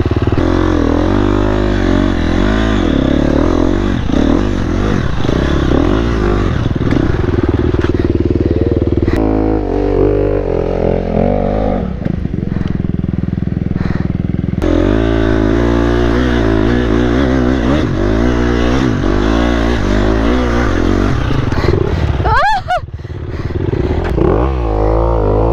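A dirt bike engine revs hard on a steep hill climb, loud and close, the pitch rising and falling with throttle blips, dropping off briefly, then climbing again into a strained wail near the end.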